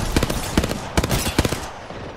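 Gunfire striking a wall in the battle royale game Apex Legends: four sharp, evenly spaced shots crack loudly in quick succession, each with a bright burst and short decay, then fade into quiet.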